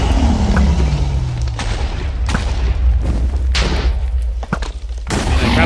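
Gunfire in the video game RageCraft 3 during a fight with warlocks and fireballs: several loud booming shots and thuds recur over a dense, rumbling game soundscape.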